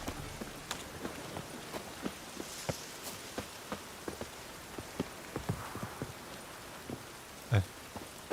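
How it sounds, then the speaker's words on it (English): Rain falls in The Witcher 3: Wild Hunt as a faint, steady patter, with scattered soft drops and clip-clop taps heard throughout at low volume. "Witches have conjured rain again."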